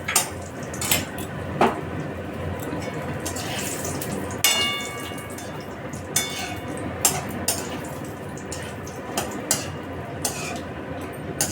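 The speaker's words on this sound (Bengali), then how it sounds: "বড়িগুলোকে ভালো করে লাল করে আমি ভেজে নিচ্ছি" Lentil dumplings (bori) fry in oil in a pan for an aubergine dish: sharp utensil clinks and scrapes against the pan recur every second or so over a low, steady sizzle.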